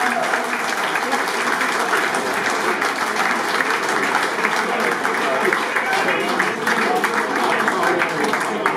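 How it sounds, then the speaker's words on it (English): A room of guests at a charity auction applauds a winning £1,600 bid with a dense, sustained wash of clapping, and voices carry faintly underneath. "Round of applause"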